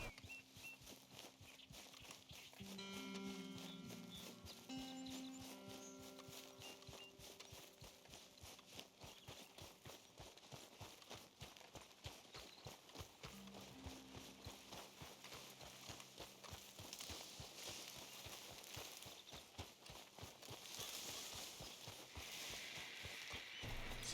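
A horse's hooves clip-clop steadily on a ride between towns in a desert video game, a long, even rhythm of close hoof strikes with a soft music bed in the background.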